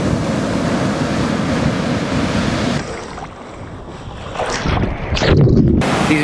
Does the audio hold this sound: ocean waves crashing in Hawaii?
yes